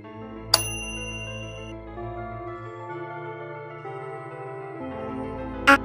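A Japanese school class chime rings out as a clear, sustained bell melody of descending and rising tones, with sharp ding accents at the start and end and no talking.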